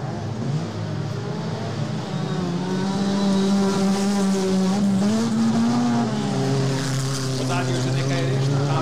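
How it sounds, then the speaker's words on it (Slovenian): Autocross race cars in a Division 1A final at Kaps roar continuously around the track, engines rising and falling in pitch as they accelerate, with a commentator speaking over the steady loud noise. "Tilen Pogačar gre naprej. Kakšna vožnja Tilena Pogačarja."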